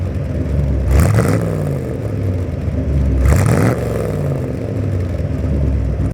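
A 1966 Chevrolet Corvette convertible with the high-output 327 V8 and its distinctive camshaft runs loudly nearby, with a lumpy idle broken by two sharp revs that rise and fall, no talk.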